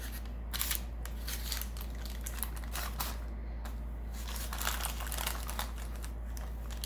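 Parchment paper crinkling as it is pressed into a pie dish for a peach pie, a close, steady run of crisp rustles and crunches with no talk.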